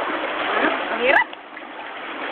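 Floodwater rushing and splashing during a severe typhoon flood, a steady wash of water with a burst of splashing, then a sudden drop to quieter flow, a voice talking briefly over it.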